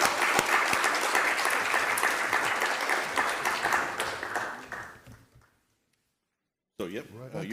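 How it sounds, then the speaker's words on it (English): Audience applause for a panel at an aerospace propulsion and energy conference session, steady clapping for about five seconds that fades to silence before a voice begins speaking. "a round of applause for the panelists."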